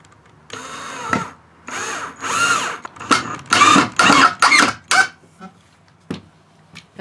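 A power drill drives screws into wooden boards in several bursts. Each whine rises and stops, with short pauses between them, and the last few are quicker and briefer. The sound is close and loud with no talk.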